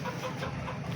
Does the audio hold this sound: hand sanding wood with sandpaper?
no